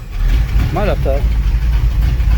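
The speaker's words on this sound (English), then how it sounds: "It's got a cam in it, but it sounds like it's running kind of rich." A Pontiac Ventura with a cam sits idling rough and running rich, a loud, lumpy low rumble that keeps going throughout, with a short burst of voice partway through.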